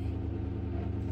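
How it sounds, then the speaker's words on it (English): A loud car that is overdue for an oil change gives a steady, low engine drone from inside the vehicle while it drives. The drone is close and heard alone. "My car is loud."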